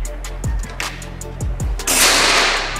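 A Mauser OD32 single-shot PCP air rifle fires during a grouping test: a couple of sharp close pops and thumps, followed by a brief loud burst of broadband hiss, with no speech.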